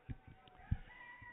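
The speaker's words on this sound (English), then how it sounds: "These are normal ducks." Ducks at a livestock auction market give a few short, separate quacks at moderate distance over faint background room noise.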